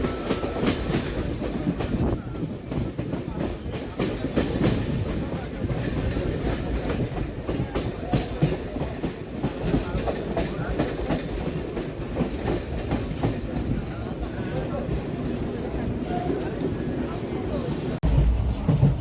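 A local passenger train near Ranaghat rumbles steadily with rhythmic clickety-clack of wheels on rails throughout, heard from inside the carriage with a dense, continuous roar.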